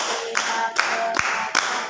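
Indonesian scout clap pattern (tepuk pramuka), a few sharp hand claps spaced apart, close and clear over a faint background.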